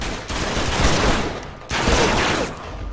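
Rapid bursts of gunfire from the video game Uncharted 2, two loud sustained volleys separated by a brief gap, dense and close with no talking.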